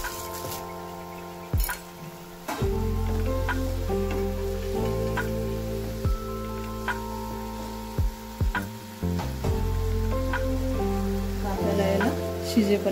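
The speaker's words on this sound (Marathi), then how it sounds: "आता याला छान उकळ आली आहे, ते आता वडे टाकून घ्यायचे आहेत।" Moth bean fritters drop into a boiling onion curry in a pot and simmer with a steady bubbling sizzle. Scattered soft clicks and drips sound close by, with no talk.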